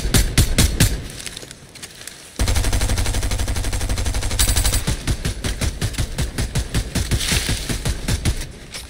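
Rapid video game gunfire, automatic bursts with a steady rhythm and loud, close reports, plus a sustained mechanical roar in the middle before the shooting resumes.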